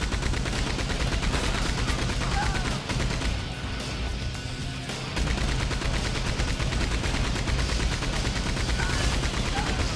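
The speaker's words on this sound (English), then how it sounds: "which includes the Gatling gun" Rapid sustained gunfire from a mounted Gatling gun in Red Dead Online, loud and continuous across the whole stretch with a brief dip in intensity partway through.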